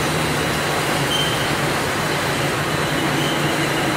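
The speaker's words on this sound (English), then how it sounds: "the latest wood rotary cutting machine, SK520S, Cut Servo CNC wood rotary cutting machine. It is driven by the servo motor" An SK520S servo-driven CNC wood rotary cutting machine, 22.7 kW, running in a workshop, giving a loud, constant mechanical roar and rumble with a faint hum that holds steady throughout, with no voices.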